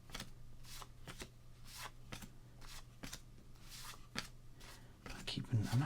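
Baseball cards are handled, shuffled and sorted close to the microphone, with repeated soft flicks and crisp slaps every half second or so, all quiet, and a brief louder rustle near the end.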